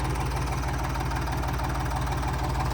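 A Ford 3600 tractor fitted with an extra silencer idles close by, a loud, steady low-pitched diesel chug with a regular pulsing rhythm and no speech.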